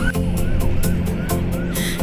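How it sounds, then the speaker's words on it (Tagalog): An ambulance siren wails in repeated rising sweeps through traffic, loud and close, over a rumbling background of vehicles and music. "Yung ambulansya."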